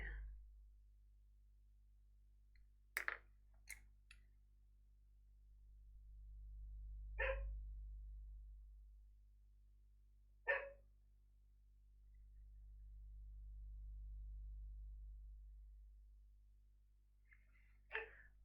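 A dog gives a few short, separate barks at wide intervals. They sound faint and distant over a steady low indoor hum, with no talking.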